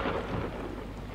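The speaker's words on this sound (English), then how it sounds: "Especially when it is raining." In the video game Deadly Premonition Origins, steady rain falls under a deep rumble of thunder. The storm is loud and dense and fills the whole brief moment without any voices.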